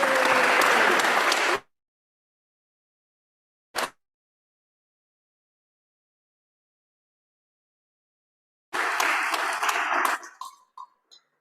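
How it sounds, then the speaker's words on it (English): A short burst of applause from an online audience honouring the 2022 Layton Activism Award winner, the Roots Community Center of Thunder Bay, Ontario, followed by silence, a brief blip, then another patch of clapping that trails off. "please join me in a big round of applause for the 2022 Layton Activism Award winner"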